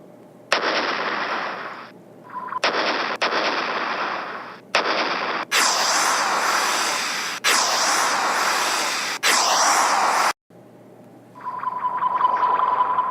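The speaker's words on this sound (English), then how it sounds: "let's blast off to Andromeda. 3, 2, 1, blast off!" A rocket blast-off sound effect plays as a series of loud, harsh roaring bursts broken by sharp cuts and short gaps, rising into a sustained full blast before a brief silence and a final rumbling surge.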